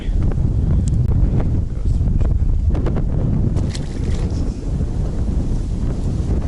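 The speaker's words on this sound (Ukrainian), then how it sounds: "Вітер такий, що ти просто то не чуєш, як грузик б'є по дну" Strong wind on a shoreline during fishing buffets the microphone in heavy, continuous low rumbles and gusts, with faint lapping water and knocks underneath.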